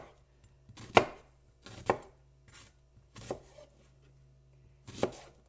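Large knife dicing an onion on a small cutting board, four sharp, close chops spaced roughly a second apart, each a crisp thud with faint scraping in the gaps.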